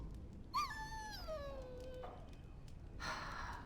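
A dog in the Dragon Age: Origins game gives a short whimper: one high, wavering whine that slides downward over about a second and a half, faint against a quiet background, with no talk.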